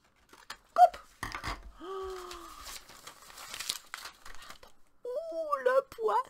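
Scissors cut paper to shape an April Fools' paper fish, giving soft crinkling and snipping bursts mixed with a voice and close, animated talk.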